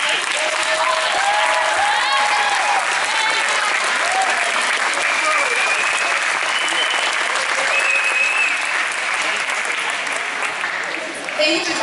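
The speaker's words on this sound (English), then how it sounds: "would you please stand and let us welcome you home with a round of applause?" An audience at a Christian school homecoming gathering applauds steadily as alumni stand up. The clapping is continuous and full for the whole stretch, with occasional cheers and whistles over it.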